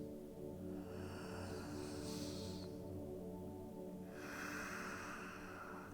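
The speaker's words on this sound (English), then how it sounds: "come back to a nice, full, deep breath" Deep, full breaths drawn in and let out during a slow yoga stretch, airy and close, with a long exhale rising over steady background music.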